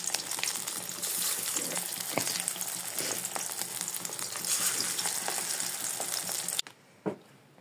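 Drumstick flower fritters fry in hot oil with a loud, steady, crackling sizzle close by, which cuts off abruptly near the end, leaving a faint clatter and a short hiss.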